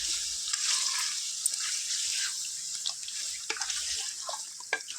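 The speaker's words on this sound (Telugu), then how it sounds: "ఒక టెన్ మినిట్స్ చక్కగా ఈ ఆయిల్లో ఫ్రై చేసుకోవాలి" Chicken pieces fry in oil in a pan for a cashew chicken gravy curry, giving a close, continuous hissing sizzle with scattered small pops and spatters and no voices.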